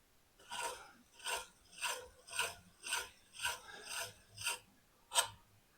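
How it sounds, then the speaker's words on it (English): A hand grinder works on metal in about nine evenly spaced rasping strokes, each a short gritty burst rising and fading. The sound is close and fairly quiet against a near-silent background. "it's the first time I ever used a hand grinder like this. I'm grinding"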